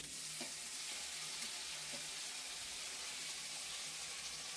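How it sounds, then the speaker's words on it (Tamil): Tomatoes sauté in a pan for a grandmother-style thoothuvalai kuzhambu, giving a faint, steady hissing sizzle with a few soft stirring taps. "இது வதங்கின உடனே நம்ம இப்போ தக்காளி போட்டு வதக்கிக்கலாம்."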